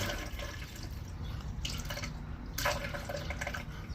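Water runs through the outlet pipe of an air conditioner drain pan during a Magic Pack unit tune-up, a continuous close trickle and splash with a few brief louder gushes and no voices.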